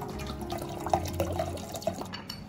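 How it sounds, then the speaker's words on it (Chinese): Water and white vinegar poured into a pot, heard as a close, continuous liquid trickle and splash lasting a couple of seconds with no talk. "再来准备500毫升清水，加入500毫升白醋"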